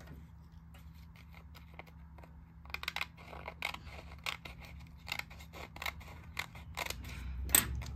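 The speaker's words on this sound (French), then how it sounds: "Je prends une étiquette. Alors, elle est trop longue." Scissors cutting an adhesive label at a repair bench, a string of sharp, close snips and clicks in irregular bursts over a low steady hum, growing busier toward the end.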